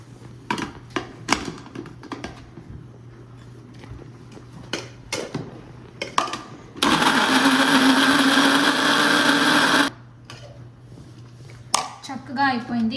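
An electric mixer grinder purees tomato in a home kitchen, a loud steady whirring burst of about three seconds after clattering and light taps, with a person talking before and after the grinding.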